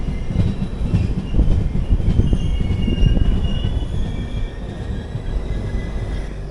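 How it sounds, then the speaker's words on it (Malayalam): The 12777 Hubballi–Kochuveli Weekly Express with a flat wheel rolls on the rails, a loud continuous rumble with rhythmic clattering thumps and faint squeal heard from inside an AC coach. "നല്ല അടിപൊളിയുടെ ഫ്ലാറ്റ് വീലുണ്ട്, സൗണ്ട് നിങ്ങൾക്ക് കേൾക്കാം."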